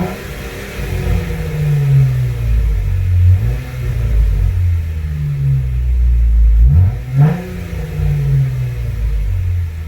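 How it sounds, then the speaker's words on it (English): A 2016 Jeep Wrangler Rubicon fitted with a Flowmaster Outlaw muffler and a cold air intake revs repeatedly. Its deep, throaty exhaust rises and falls in several loud, close blips over a steady rumbling idle. "throaty sound"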